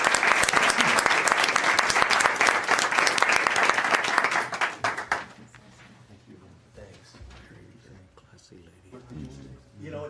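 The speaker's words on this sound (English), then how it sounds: "Take a round of applause." A council meeting audience breaks into a round of applause, loud dense clapping for about five seconds that tapers off into quiet room noise, with a voice speaking softly afterward.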